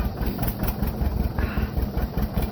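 A tractor engine idles steadily nearby in freezing cold weather, a low rumbling chug that stays even throughout.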